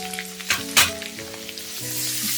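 Spice masala with salt and turmeric frying in a pan for prawn malai curry: a bright, close sizzle with bursts of stirring, over steady tonal background music.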